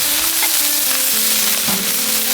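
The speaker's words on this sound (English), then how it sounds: "we're on high heat because we want to sear these burger patties" Burger patties sear on a thinly oiled Blackstone griddle over high heat, a loud, continuous close sizzle with a bright hiss, alone and unbroken.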